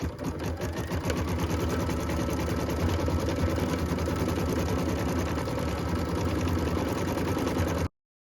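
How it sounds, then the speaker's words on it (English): A sewing machine runs steadily, stitching a blue-thread snowflake detail on a Christmas tree skirt, a continuous close mechanical whir that holds without pause for about eight seconds before cutting off abruptly. "what we're stitching right now is just some cute snowflake detail in that blue color"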